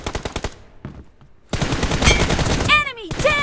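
Rapid automatic gunfire in the mobile battle-royale game PUBG Mobile, a quick burst of loud shots, a brief lull, then a dense stretch of sustained firing with whizzing ricochet tones, and a voice speaking.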